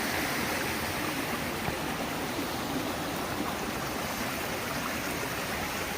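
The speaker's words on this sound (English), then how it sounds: "Yeah, nice little waterfall." A small waterfall and stream rush in a steady, even roar of splashing water, with no other sounds.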